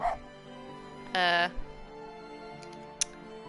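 A fox's bark in the video game Spirit of the North: one loud, harmonic yelp that lasts about half a second, with faint clicks and a short chirp after it over a quiet ambient background.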